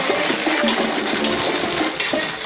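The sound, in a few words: water being poured into a chicken feet stew pot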